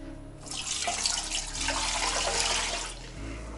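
Spring water from a well pours steadily into a canning jar for about three seconds, a full rushing splash that starts abruptly and tapers off near the end.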